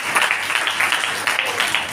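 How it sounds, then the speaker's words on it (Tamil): An audience at a Tamil talk breaks into brisk, continuous clapping, a close, lively patter of many hands with a voice faintly mixed in. "அவர் கைத்தட்டி அவருக்கு ஒரு நன்றி சொல்லுங்க."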